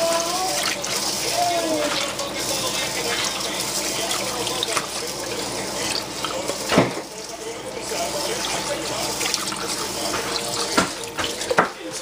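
Rice washed under a running kitchen tap, a steady rushing stream of water with splashing and occasional clatter, while people talk over it.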